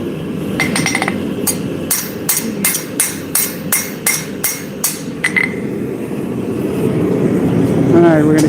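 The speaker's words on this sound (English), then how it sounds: "We're going to use the power hammer again." Power hammer forging a curvy knife blade in a smithy: a quick series of sharp, ringing metallic blows in a fast regular rhythm, then a low steady hum with a faint whine near the end.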